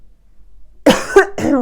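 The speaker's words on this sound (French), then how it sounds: "J'ai ma toux qui revient." A woman gives a short burst of two or three harsh coughs, close and loud, following a near-silent pause.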